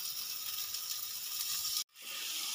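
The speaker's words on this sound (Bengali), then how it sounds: "এবার আমি এখানে একদম অল্প পরিমাণে জল" A small splash of water hits a hot pan during a Bengali okra-and-prawn dish, a soft, faint hiss that holds steady, drops out abruptly for a moment, then returns.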